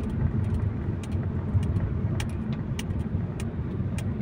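Dense road traffic near Meriam by the Ateneo stoplight, a steady low rumble of many car engines idling and creeping along, with a few faint higher clicks and hisses over the continuous drone and no talking.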